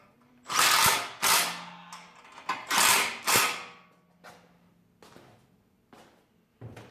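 A wrench snugging up a bolt while assembling a Victory Cross Country reverse trike: several loud ratcheting bursts close by, two pairs of strokes followed by fainter clicks and a soft clank.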